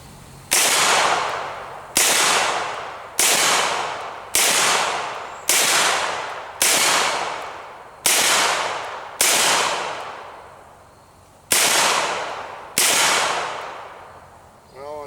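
Ruger MP-9 submachine gun firing single semi-automatic shots, about ten loud, sharp reports spaced roughly a second or two apart, each followed by a short decaying ring outdoors.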